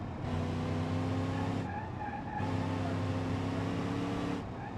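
Car tires skidding in the BeamNG.drive driving game, two long loud screeches separated by a short gap under a steady engine roar, with no talking.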